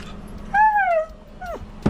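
A small dog whimpers in a rising-then-falling whine, followed by a second shorter whimper and a quick sharp yip at the end, close and fairly loud.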